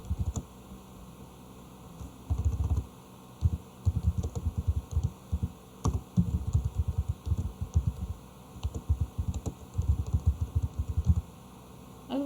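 Typing on a computer keyboard during a computer fundamentals lesson, heard as irregular bursts of close, soft key clicks that continue through most of the passage, with short pauses between runs of keystrokes and no talking.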